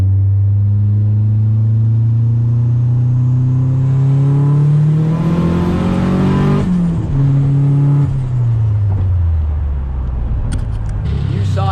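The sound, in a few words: 600hp IROC R/T car engine revving during test runs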